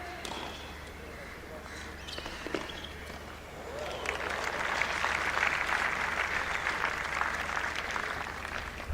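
A crowd at a live WTA 125 women's tennis match in Mumbai claps. The applause swells midway and holds as a sustained wash of clapping, with faint thumps and crowd noise under it.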